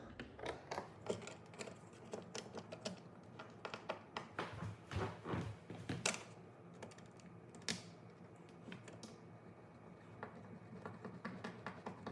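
Screws are driven into wall anchors to fix a thermostat wall plate, heard as a close series of irregular clicking, ratcheting taps and scrapes, fairly quiet, with busier bursts in the middle.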